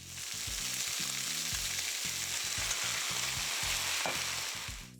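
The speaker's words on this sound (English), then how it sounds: "Once they're cooked, they can go into the pan with our sauce." Noodles frying in a pan with Mongolian beef sauce, a steady close sizzle with stirring and the scrape of a utensil against the pan, loud and continuous with no talking.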